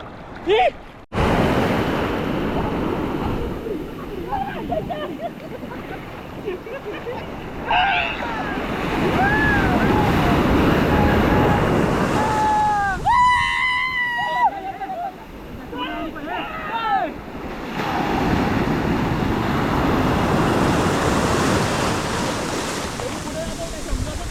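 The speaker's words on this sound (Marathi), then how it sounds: "मित्रांनो तुम्ही लाटा बघू शकता केवड़ा जोरत लाटा येतात संध्याकाळच्या वेळेला" Loud evening ocean surf rolling and crashing continuously at Vengurla Beach, with strong wind rushing over the microphone and a few brief voices and whistle-like sounds in the middle.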